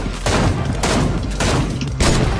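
Bursts of gunfire in the video game Fortnite come in several loud, close, overlapping volleys, with a sharp final shot near the end.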